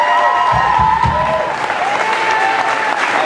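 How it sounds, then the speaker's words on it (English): A crowd at a 25th anniversary music celebration gives loud, dense applause with some cheering, steady throughout, with voices audible beneath the clapping. "So, round of applause for them."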